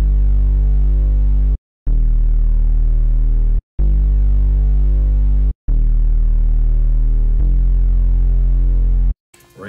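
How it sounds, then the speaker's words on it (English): Concrete bass one-shot from a Sunboy sample pack, played as four loud sustained low booms, each ringing about two seconds and separated by short silent gaps, with a brief glitchy burst at the end. "It's called a concrete bass,"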